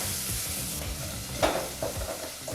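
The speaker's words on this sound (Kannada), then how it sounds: "ಈರುಳ್ಳಿ ಸ್ವಲ್ಪ ಚೆನ್ನಾಗಿ ಫ್ರೈ ಆಗಬೇಕು." Chopped onions fry on a low flame in a pan for a greens curry, giving a soft continuous sizzle with a faint scrape of stirring partway through.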